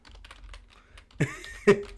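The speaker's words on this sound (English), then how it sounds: "you're going to hear my keyboard for a second because it's a bit... I have a big chunky keyboard." Keys clack softly on a big chunky computer keyboard, followed by two louder, sharper keystrokes close to the microphone in a quiet room, with no speech.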